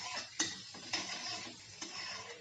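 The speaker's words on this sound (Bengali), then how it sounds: "কুচানো রসুনটাকে কয়েক সেকেন্ড ভেজে নেব।" Chopped garlic frying in a pan gives a soft sizzle, broken by a few sharp clinks and scrapes of a utensil against the pan, with no voices.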